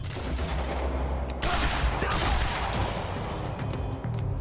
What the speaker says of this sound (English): Assault rifle actually works good.